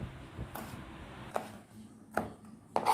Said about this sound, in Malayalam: വീണ്ടും കുനുകുനാന്ന് അരിയുക